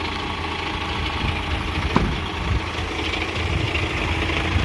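A truck idles near swap body containers, its engine giving a steady low rumble with an even drone throughout and one brief click partway through.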